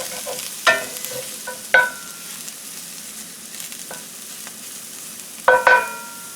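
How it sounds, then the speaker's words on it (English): Chicken of the woods mushroom is stirred in a hot pan, a soft sizzle underneath a few sharp scraping strokes of the utensil spaced a second or more apart, close and fairly loud. "then it's time to mix the mushroom"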